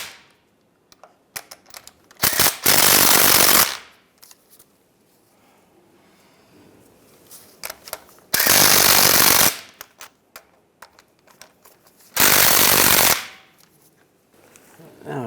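An impact wrench tightens nuts on a Chevrolet Silverado 1500 strut assembly in three loud, rapid rattling bursts of about one to one and a half seconds each, separated by quieter clicks and handling noises.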